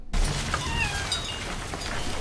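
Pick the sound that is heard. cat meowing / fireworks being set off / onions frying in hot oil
cat meowing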